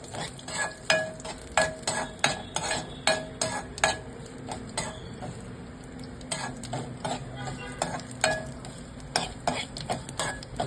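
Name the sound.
dry fruits and poppy seeds roasting in ghee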